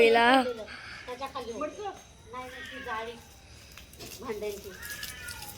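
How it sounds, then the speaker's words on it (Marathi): A cat meows several times close by, with rising and falling cries spread across the stretch and a short pause between them. "कुठे आवाज येते मांजरीचा"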